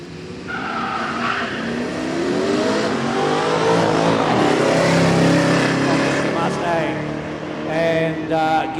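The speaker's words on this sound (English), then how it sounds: "That supercharged Mustang sounds a lot better when the revs are on board." A supercharged Ford Mustang revs hard at a drag strip, its engine roaring loud and sustained with a rising, sweeping whine and tire noise, and a commentator's voice carries over the top.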